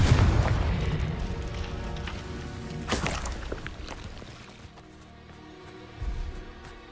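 A Confringo blasting spell explodes in Hogwarts Legacy, a deep boom landing midway through a rumbling fiery wash, with a second, softer thump near the end.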